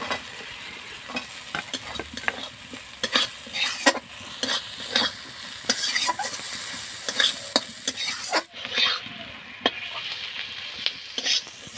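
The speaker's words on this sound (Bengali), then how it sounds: "এবার দিয়ে দেবো কেটে রাখা লঙ্কা। লঙ্কা দিয়েও আমি ভালো করে কষে নেব।" Chopped raw and ripe chillies are stirred and sautéed in a pickle spice mix, giving a close, steady sizzle broken by repeated scraping strokes of a spatula; the frying quiets briefly near the end, and no one speaks.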